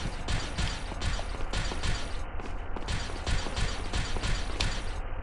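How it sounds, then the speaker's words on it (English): Metal armor clanks and rattles steadily with each footstep as a character walks and runs in Resident Evil 4, a dense rhythmic mechanical jangle with no talk. "there's that annoying clanking sound that she makes when she walks and runs"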